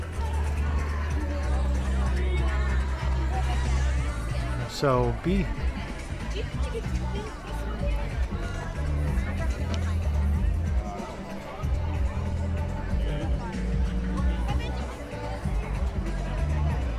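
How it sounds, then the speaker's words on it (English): Crowd chatter and murmuring voices gather around a sand sculptor at a Coney Island sand sculpting competition, a steady outdoor hubbub with a nearby voice speaking briefly over it. "This guy's got quite a crowd around him."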